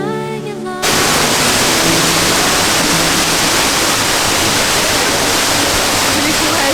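An Icelandic waterfall roars at close range, a dense, loud, unbroken wash of falling water that bursts in after a brief moment of quieter ambience and then stays constant.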